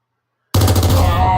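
A rocket launcher arm fires in the robot game Bionic Dues, an abrupt loud burst of rapid rattling blasts breaking out of silence and continuing steadily, close and dominant.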